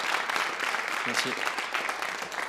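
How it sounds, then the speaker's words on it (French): A comedy club audience applauds a stand-up comedian, steady dense clapping filling the room while a voice briefly speaks over it. "si vous pouvez m'applaudir pour bien me relancer, ça me ferait vraiment du bien"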